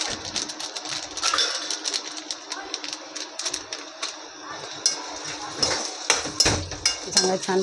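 Onions fry in a pan over a lowered gas flame for a matar paneer dish, with a spoon or spatula repeatedly scraping and clinking against the metal while a sizzle runs underneath.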